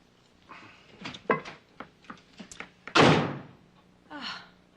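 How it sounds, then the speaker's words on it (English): A door slams shut with a loud, sharp thud, preceded by a series of quieter footsteps and knocks in a quiet indoor room, with a faint rattle after the slam. "Why does he always have to slam the door?"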